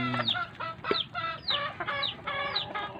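Several backyard laying hens cluck and squawk in short, repeated bursts nearby, a busy farmyard chatter with no talking.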